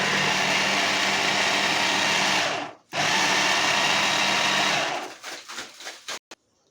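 A blender grinding onion and pepper runs loud and steady, cuts out briefly, restarts, then sputters in short bursts as it winds down and stops.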